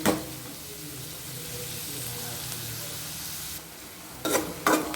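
Ingredients sautéing in a pan for chicken varuval, a soft steady sizzle with a faint knock at the start and a few louder scraping stirs near the end.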